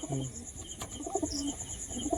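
A female homing pigeon coos softly close by, with low repeated burbling notes and faint chirps from other birds in the loft.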